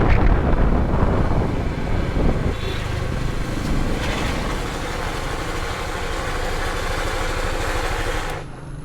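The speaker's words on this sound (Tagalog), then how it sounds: "Kung mapapansin nyo, may maingay kayong narinig mula sa CVT ng motor ko." A Yamaha Aerox V2 scooter with a loose, broken CVT drones loudly and close. Its rough engine and drivetrain noise runs steady under wind buffeting, then drops off abruptly at the end.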